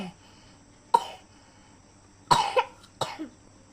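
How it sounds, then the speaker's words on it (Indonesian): A child coughs at home, a few separate coughs, one near 1 second and a close burst around 2.3 to 2.6 seconds, then another at 3 seconds, close and fairly loud over a quiet room. "Ketularan batuk."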